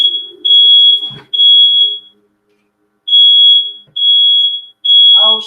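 A household smoke detector sounds a loud, high, steady electronic beep in long repeated tones with gaps, close by, over quiet background noise and a brief voice at the end.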